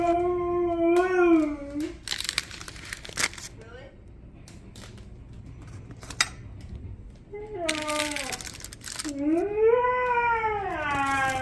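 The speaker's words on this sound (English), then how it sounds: "The dogs howl. We have Siberian Huskies, and this is what they regularly sound like." Siberian Huskies howl in long, rising and falling wails, loud and near, in two main bouts split by a stretch of scuffling and clatter. No one speaks.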